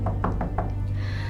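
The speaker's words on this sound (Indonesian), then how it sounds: "Suara ketukan 3 kali masih terus terdengar selama beberapa saat" A door knocked in sets of knocks, four evenly spaced raps over a steady low hum, near and fairly loud, set in a spooky tale of a night at a boarding house as rain is about to fall.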